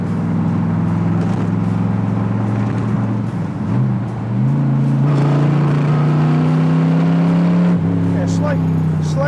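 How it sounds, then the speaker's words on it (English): A loud 1968 Corvette Coupe engine idles roughly, then revs up and holds a higher pitch before dropping back, close and throbbing throughout. "This engine's dialed in. This engine feels fresh."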